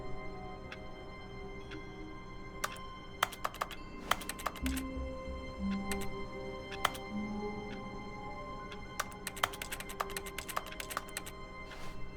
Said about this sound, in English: He sat at his desk in room 427 and he pushed buttons on a keyboard.